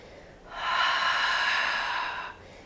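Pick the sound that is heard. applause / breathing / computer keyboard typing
breathing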